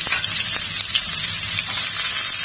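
Onions fry in oil in a pan with a bright, steady sizzle and a few crackling pops. The sound is close and constant, with no voices.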